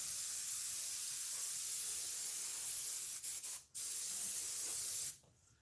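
Close, steady hiss of an airbrush spraying ink around the inside of a Demogorgon mouth sculpture, running continuously for about five seconds with two brief breaks near the end before it cuts off.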